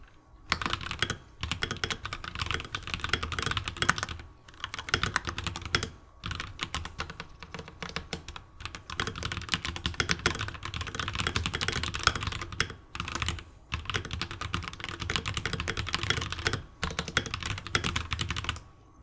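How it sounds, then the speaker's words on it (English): Rapid, steady typing on an RK61 Plus budget mechanical gaming keyboard, dense clacking keystrokes close up and continuous with a few brief pauses, no voices. "For 60 bucks, I can't think of a better budget mechanical gaming keyboard."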